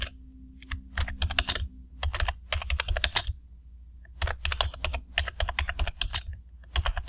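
Rapid clattering keystrokes on a computer keyboard come in quick bursts with short pauses between them, close and fairly quiet.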